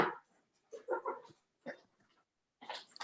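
Dog being let in through a back door beside a home kitchen, giving a few close, short whimpers and yips in separate bursts with quiet gaps between.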